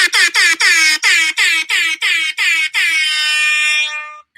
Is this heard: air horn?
yes